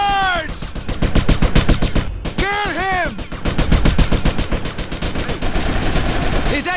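Gunfire in Grand Theft Auto: Vice City Stories: rapid, loud automatic bursts crackle in steady rhythm, up close, while someone shouts over the shooting.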